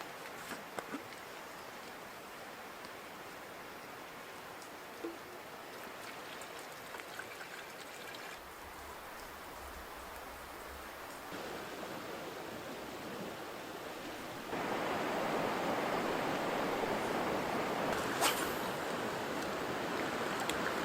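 Steady rain falls at a riverside hammock camp, a soft, even hiss mixed with the flow of nearby water. It grows noticeably heavier and louder toward the end, with no voices.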